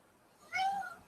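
A small cat hollering, a single short meow rising sharply then fading, fairly close and alone over a quiet indoor background.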